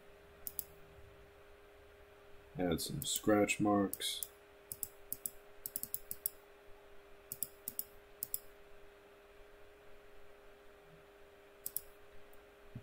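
Computer mouse clicks tapping out in quick irregular runs during weapon modding for the game Blade and Sorcery, fairly faint and close, alongside someone speaking briefly.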